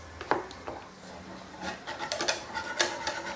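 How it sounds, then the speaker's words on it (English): Whisk stirring melting butter and flour in a pan for béchamel sauce, with light irregular scraping and tapping clicks, close but fairly quiet. "using the whisk there, we've broken up a lot of those lumps of flour"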